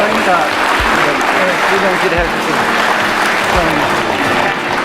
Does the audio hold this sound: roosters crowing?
no